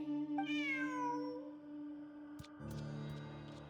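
A cat character in a video game lets out one long, rising-and-falling meow, followed by a quieter pause and soft game background tones.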